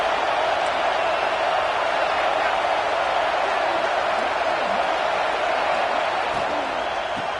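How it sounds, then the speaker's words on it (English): A football stadium crowd keeps up a steady, dense roar throughout, heard from within a loud, tough environment for visiting teams. The sound is a continuous wash of cheering with no distinct peaks. "Listen to the crowd energy here in the early going."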